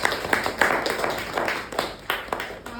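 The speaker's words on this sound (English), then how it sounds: "Let's give a big round of applause to" An audience at a Toastmasters club meeting claps, giving a few seconds of scattered, moderately close applause with irregular claps.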